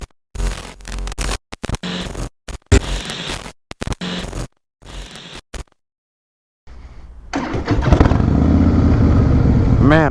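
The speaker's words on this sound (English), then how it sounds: "Man, I love that startup sound." A 2017 Harley-Davidson CVO Breakout motorcycle engine starts up after a stretch of choppy, broken noise, then settles into a loud, steady, close idle rumble.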